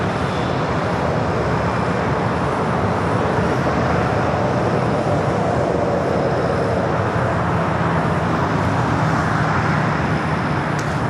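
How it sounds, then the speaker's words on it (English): A United Boeing 757-300 jet taking off at LAX, a loud continuous broadband engine roar that holds steady throughout, heard from outside near the airfield with no speech. "Next takeoff is a 757-300 United Flight 2268 heading to Dulles."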